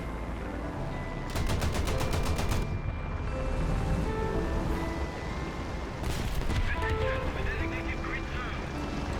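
A Flak Panzer 38 anti-aircraft tank in War Thunder fires rapid bursts of cannon shots, two quick strings of evenly spaced, sharp reports over a loud, rumbling engine and battle background.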